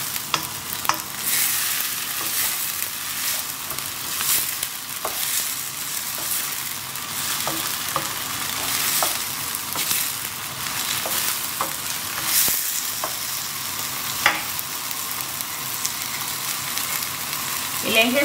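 Chopped tomatoes sautéing in a pan over raised heat for a Goan meatball curry, a soft continuous sizzle with occasional spatula taps and stirring, steady and moderately quiet.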